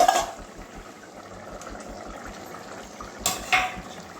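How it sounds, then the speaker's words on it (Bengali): A lid lifted off a cooking pot with potato and paneer curry, giving metallic clinks at the start and again near the end over a soft background simmer, close and brief. "এবারে ঢাকনাটা খুলছি"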